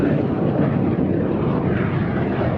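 A display aircraft passes at an air festival, a loud, steady engine roar that fills the air evenly from start to finish, with no voices over it.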